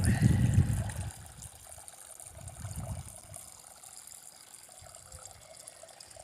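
Water flows gently in a garden, a soft continuous trickle with low rumbling bursts near the start, fairly quiet and steady throughout.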